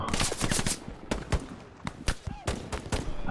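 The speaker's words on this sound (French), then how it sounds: "vous subissez des tirs de suppression" Suppressive machine gun fire in the WWII shooter Hell Let Loose on PS5, rapid bursts of close and distant automatic shots cracking in irregular clusters, with a voice briefly speaking amid the firing.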